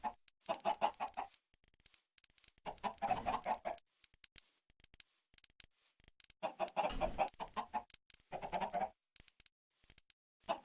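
Chickens cluck and squawk in Minecraft, coming in several short bursts with quiet gaps between them, the calls close and clear with no talking.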